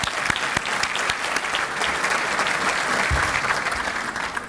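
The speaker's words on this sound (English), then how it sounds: "Let's give Craig a round of applause" Applause from an audience at a civic State of the City event in Suffolk, steady dense clapping filling the room throughout, with no voices over it.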